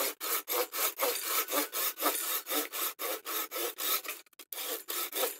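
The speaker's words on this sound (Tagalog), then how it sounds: "Kaya ito, hanggat kayang lagari dito." Steady back-and-forth rasping of a hand saw cutting wood, about three strokes per second, close and loud, with a brief stumble near the end.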